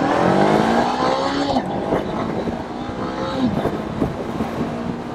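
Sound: Honda CB500X motorcycle riding through a turn

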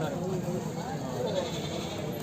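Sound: goat bleating at a livestock market

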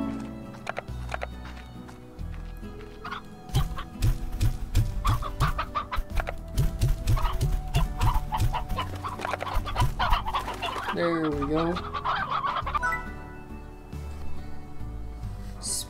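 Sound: chickens clucking in hen house, Slime Rancher video game

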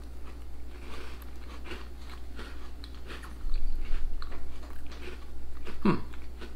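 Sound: crunching on a Tim Tam chocolate biscuit

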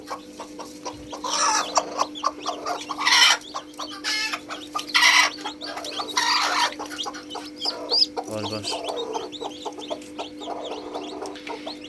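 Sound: hen clucking with chicks

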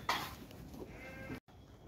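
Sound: lambs bleating on a farm

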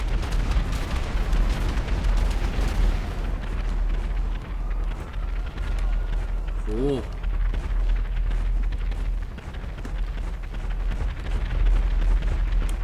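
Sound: gunfire in the video game GTA Online

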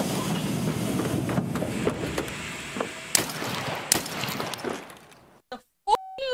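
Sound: train departing in Escape From Tarkov video game

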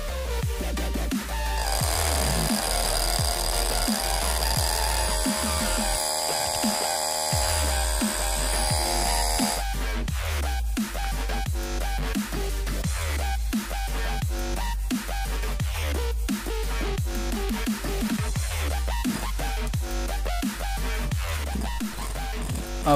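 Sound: homemade DC motor drill machine running

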